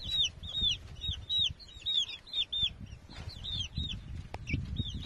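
Month-old chicks, mostly young roosters, peep and cluck in repeated high chirps over soft scuffling and shuffling, quiet and close.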